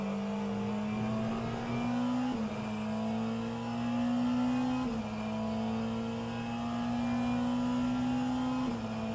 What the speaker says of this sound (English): That's a lapped BMW hypercar behind.